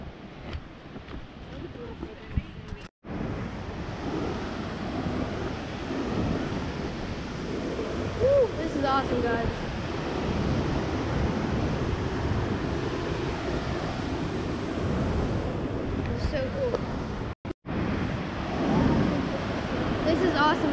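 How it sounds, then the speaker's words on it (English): Fast-flowing river water rushes along a hiking trail near waterfalls, a steady broad roar mixed with wind buffeting the microphone, with people talking now and then. "Cause I already hear rivers down that way."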